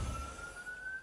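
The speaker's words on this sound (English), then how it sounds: "And the sirens are going off" Steady wailing siren in the hero shooter game Marvel Rivals, a single sustained tone heard faintly and evenly throughout, without talk.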